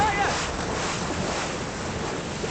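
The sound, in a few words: racing skiff sailing down large waves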